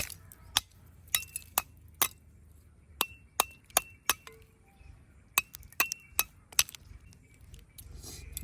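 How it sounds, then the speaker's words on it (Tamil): Ice cubes being smashed for an Oreo biscuit ice cream mix in a village kitchen: sharp, hard clinks and cracks strike one by one in an irregular rhythm, close and crisp over a quiet background. "வாங்க ஐஸ் கட்டி உடச்சி போட்டுக்கலாம்."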